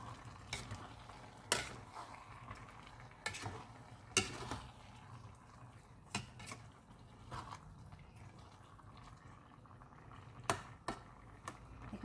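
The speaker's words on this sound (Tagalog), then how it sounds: "Haluin natin guys." Jackfruit with vegetables stirred in coconut milk in a pot, a low steady simmer under intermittent sharp clicks and scrapes of a spoon against the pot, moderately quiet and without talk.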